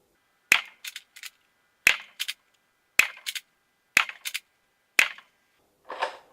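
A modified Nerf Deadpool Kronos blaster fires aftermarket Rival rounds five times in steady succession. Each shot is a sharp crack followed by quick mechanical rattles, and a softer scuffing sound comes at the end.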